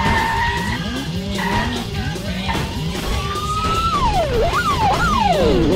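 A police car in a mobile city car-chase game skids and spins out, its tires squealing in long rising and falling sweeps over steady engine and game noise, loud and continuous.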